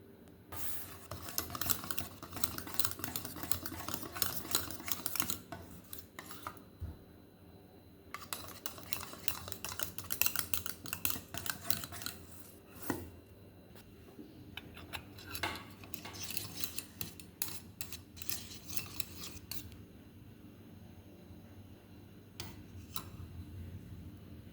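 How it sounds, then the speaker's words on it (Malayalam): A pudding mixture being stirred in a bowl, rapid rhythmic clicking and scraping of a utensil against the sides in bursts, with short pauses between rounds of mixing, close and fairly quiet. "ഇനി നമുക്കിത് നന്നായി മിക്സ് ചെയ്ത് കൊടുക്കണം."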